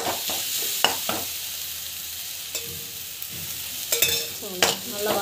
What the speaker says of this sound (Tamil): நல்லா வதக்கி வச்சுக்கலாம்.